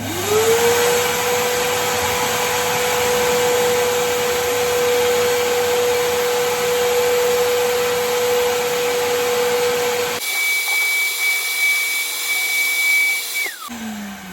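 A shop vac feeding a DIY cyclone dust collector roars steadily and loudly as it sucks up sawdust, with a sustained whine. It shuts off near the end and the sound winds down.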